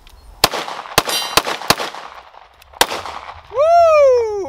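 A muddy Sig Sauer P320 AXG Scorpion pistol fires five loud, sharp shots at irregular intervals outdoors, followed by a voice whooping loudly.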